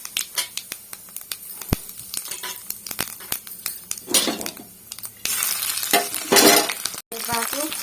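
Cumin, mustard seeds and thinly sliced garlic fry in hot oil, with sporadic pops and crackles building into bursts of loud sizzling, alongside clinks of a spoon stirring in a pan.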